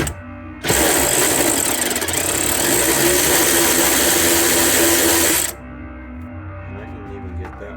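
An electric ratchet runs flat out on a Honda Civic LX sedan from 2001, a loud, steady, dense mechanical whir that holds for about five seconds and then stops abruptly.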